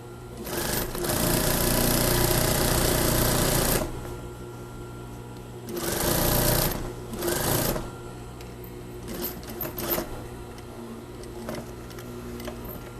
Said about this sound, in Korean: 양쪽 선을 잘 맞춰서 박음질 해주면 됩니다.